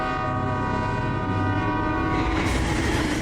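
A train on the Vienna Municipal Railway sounds a long, loud steady horn close by, with the rumble of the cars underneath; no speech.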